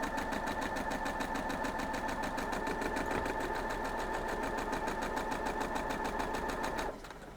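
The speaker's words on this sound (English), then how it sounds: "And our next two ends we're going to sew together." Sewing machine stitching a quilt block seam: a fast, even mechanical chatter of the needle running continuously at close range, stopping abruptly near the end and leaving a quieter hum.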